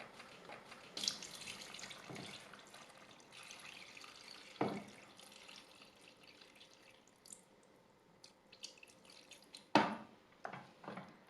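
Water trickles and splashes from a tap into a pot of potatoes and soy chunks for a stew, a soft, quiet running stream broken by a few louder splashes and clunks.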